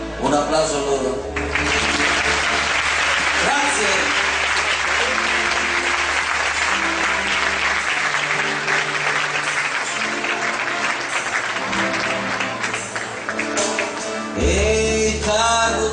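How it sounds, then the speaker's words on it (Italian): Audience applause at a live outdoor concert in Virle, Rezzato, a sustained wash of clapping from a crowd, loud and steady over music, with a brief spoken voice near the start and end. "Un applauso a loro."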